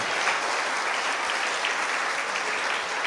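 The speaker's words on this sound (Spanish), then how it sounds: "Dale fuerte el aplauso." Sustained, dense applause from a church congregation fills the room at a steady, even level for the whole stretch, with no voices breaking through.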